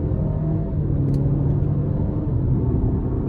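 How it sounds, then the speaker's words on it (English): Cadillac XT4 Sport with a four-cylinder engine on a test drive, a steady close cabin rumble and road drone holding even throughout with no change in pace. "Starting the test drive in this XT4 Sport"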